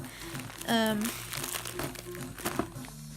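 Plastic-wrapped bag torn open by hand without scissors gives sharp crinkling and rustling bursts, close up, with a person talking over it.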